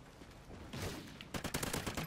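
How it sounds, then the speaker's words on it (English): Assault rifle gunfire in the Call of Duty: Ghosts multiplayer video game, a steady crackle of game noise followed by a burst of rapid automatic shots in the second half, loud and unbroken, with no talking. "Well, it's an assault rifle, so what can you expect?"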